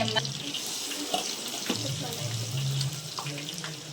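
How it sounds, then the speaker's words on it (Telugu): Ginger-garlic paste frying in a lot of hot oil while making mango pickle: a dense, hissing sizzle that bubbles up steadily and stays close and loud throughout, with a voice talking over it. "మనం ముందుగా తయారు చేసిన అల్లం వెల్లుల్లి పేస్ట్ వేసుకోవాలి"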